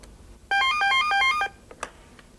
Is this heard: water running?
no